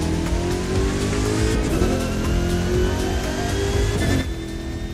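A Bugatti Divo races in The Crew 2 video game, its engine droning steadily with a sustained roar and rising harmonic tones, loud and continuous before easing slightly near the end.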